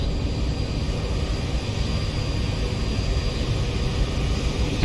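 A simulated Boeing 737 Zibo mod jet in X-Plane 11 produces a constant, loud engine roar with a thin steady whine riding on top, unbroken for the whole stretch.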